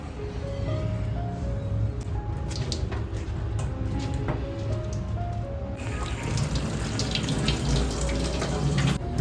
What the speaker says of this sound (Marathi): थोडा थंड पाणी घातलं ना